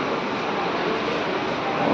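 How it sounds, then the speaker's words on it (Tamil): A train rolls past in rainy Kerala, giving a steady, continuous broadband rumble that holds even throughout and swells slightly at the end, with no voices. "அந்த ட்ரெயின் போயிட்டுருக்கு."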